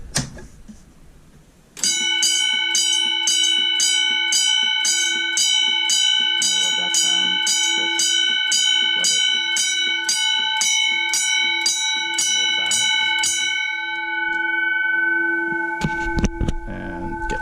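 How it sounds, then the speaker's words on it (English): Loud fire alarm bells ring continuously in a rapid, steady clatter during a fire alarm system test, with a few faint voices and clanks near the end. "these bells are loud as hell"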